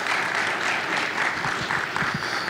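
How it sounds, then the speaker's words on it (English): A conference audience gives steady, moderately loud applause for newly promoted reviewers, with many hands clapping in a dense, even patter for the whole stretch. "another round of applause for everyone who got promotions"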